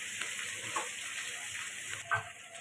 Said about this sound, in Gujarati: જો આ ભીંડો સંતળાય છે